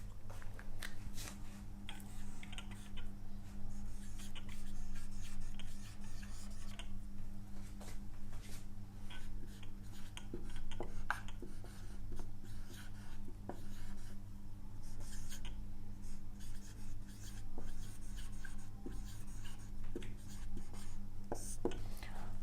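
Pen writing notes by hand, a steady close scratching and rubbing that runs continuously under a low background hum.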